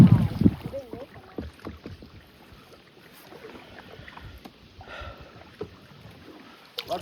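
Kayak paddles dip and stroke through a narrow channel on a Bowron Lakes trip, a few close splashy strokes at the start and scattered faint dripping and water knocks after, with light wind in the microphone.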